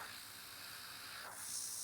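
An airbrush sprays nail polish onto a flower-petal nail art design at an airnails workshop, a soft steady hiss that brightens and grows slightly louder partway through, heard alone without talk.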